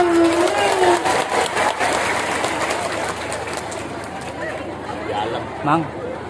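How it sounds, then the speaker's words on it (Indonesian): An audience at an Indonesian ustadzah's religious talk claps, loudest at the start and gradually thinning, while voices and crowd chatter carry on over and after it. "Itu tepuk tangan dulu dong."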